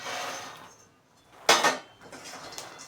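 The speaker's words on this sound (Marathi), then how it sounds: "आता याला फटाफट मिक्स करून घ्यायचं" Makhana (fox nuts) being stirred in oil in a pan over a low flame, giving a soft rattling scrape followed by one sharp metallic clank of the spoon against the pan, close up and without speech.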